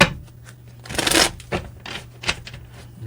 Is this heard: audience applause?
no